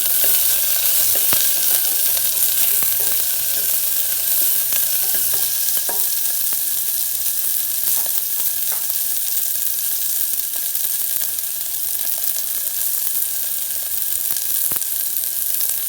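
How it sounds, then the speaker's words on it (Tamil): Green chillies and sambar onions sautéing for paruppu kulambu, a loud steady sizzle of frying in a pan with scattered light clicks from stirring throughout. "அதோட பச்சை மிளகாயும் சேர்த்துடலாம் சேர்த்துட்டு லைட்டாக வதக்கிடலாம்"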